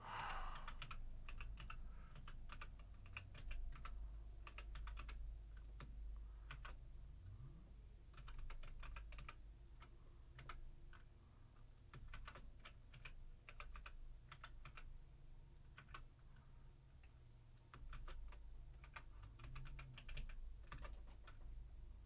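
Continuous typing on a computer keyboard, dense irregular key clicks running throughout at close range with a low background hum, no talking.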